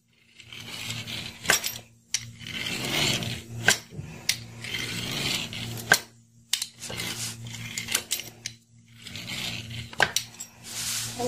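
A pastry cutter slices through rolled dough for baghasha, making a series of close scraping and clacking strokes against the board in quick irregular bursts, with short pauses between them and no talking.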